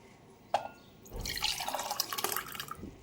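Prepared falooda made from a packet premix is poured into a glass, a sudden liquid gurgle and splash rising after a sharp clink and running for about two seconds, with no speech.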